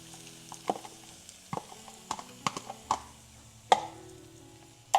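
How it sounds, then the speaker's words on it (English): Smoked sausage stirred quickly in a pan, a series of separate knocks and scrapes of a utensil over a low sizzle, close by; no talking. "Give it another quick stir, really quick stir."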